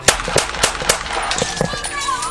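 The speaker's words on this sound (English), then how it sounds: "Gunshots rang out and Alex collapsed in the backyard" Gunshots fired during a police confrontation, a rapid burst of several sharp cracks in quick succession, loud and close, with a high whine trailing at the end.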